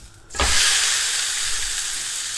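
Meat sears on a hot cast iron pan, a sudden loud sizzle bursting in as it hits the metal and then holding as a steady, close, crackling hiss with no talk.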